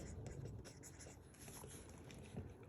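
A pen scratches across paper in short irregular strokes while an electrician tallies circuits for pricing an electrical job, steady and close with no talk.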